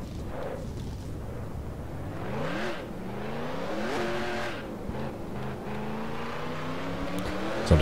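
A race car engine in the NASCAR Racing 2003 video game revs repeatedly while spinning donuts, swelling and falling pitches in rhythmic surges, loud and close with tire noise between revs.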